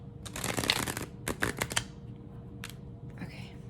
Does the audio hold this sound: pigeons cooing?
no